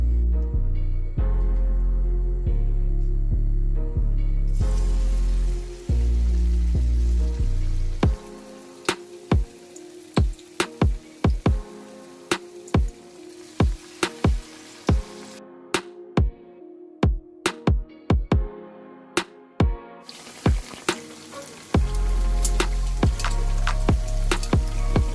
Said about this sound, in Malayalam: അപ്പോൾ നമുക്ക് പഴം ബാറ്ററിൽ മുക്കിയിട്ട് നമുക്ക് അതിലേക്ക് ഇടാം.